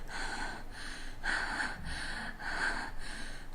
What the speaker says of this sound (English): panting, out of shape snakes that appear to be trying to run while slithering.